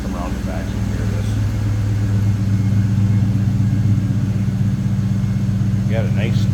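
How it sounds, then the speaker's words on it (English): Deep, steady exhaust rumble from a 1997 Ford Mustang Saleen S281 convertible idling close by, a low throaty drone throughout, with someone talking over it. "You got a nice, deep rumble, little throaty sound coming out of that 281 under the hood."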